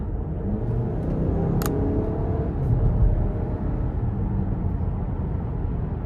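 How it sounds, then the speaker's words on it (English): A 2023 Buick Envision Avenir with a 2.0 turbo four-cylinder accelerating under throttle, heard from inside as a steady low engine and road rumble with a brief click early on. "We'll just give it a bit of throttle here."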